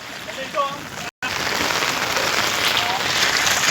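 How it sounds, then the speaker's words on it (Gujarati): Heavy rain pours down in a village, a steady broadband hiss that continues almost unbroken apart from one brief dropout, with a few faint voices underneath. "ફાઇનલી મિત્રો જોરદાર બહુ વરસાદ થયો છે"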